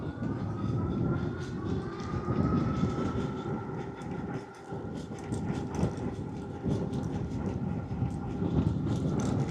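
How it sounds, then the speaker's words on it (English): A 2000W Globalkeep Solei X8 electric dirt bike motor runs with a steady, slowly rising whine, buried in a loud continuous rush of wind and road noise that lasts the whole stretch. "Pedal assist 3. Motor kicked in."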